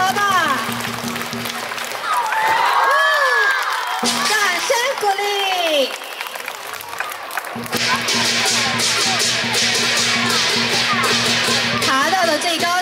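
Crowd cheering and applause at a primary school sports day, with children whooping and shouting over a loud, steady hubbub and a constant hum under it.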